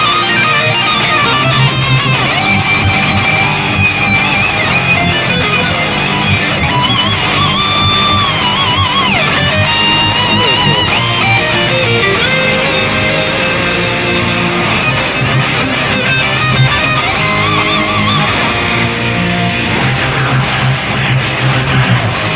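Recorded metal track, during its guitar solo panned to the left, with a lead line soaring over constant chugging rhythm guitars and drums, dense and loud throughout with no talk.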